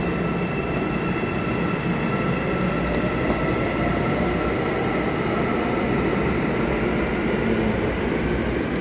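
A subway train runs steadily, a loud continuous rumble with rail hiss and faint squeals, heard from onboard with no talking.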